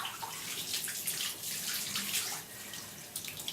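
Running water from a tap rinses shampoo off a cat during a bath, a steady broadband splashing that fills the whole clip and dips briefly near the end.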